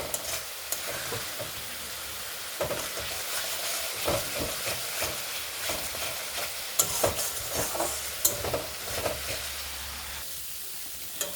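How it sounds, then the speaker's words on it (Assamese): Narasingha (curry) leaves fry with spices in a pan, giving a continuous close sizzle, with irregular scraping and clacking as they are stirred. "আৰু মছলাখিনিৰ সৈতে মই নৰসিংহ পাতখিনি 2ৰ পৰা 3 মিনিট টাইম ফ্ৰাই কৰি ল'লোঁ।"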